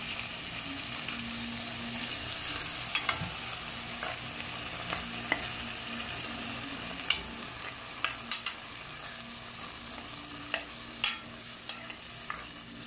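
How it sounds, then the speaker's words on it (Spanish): Food sautéing in a pan with a little vinegar for a home Christmas dinner, a steady soft sizzle with scattered stirring clicks and scrapes, close and continuous with no talk. "Vamos a sofreír"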